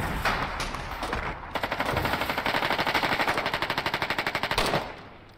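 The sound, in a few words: gunfire in the video game Foxhole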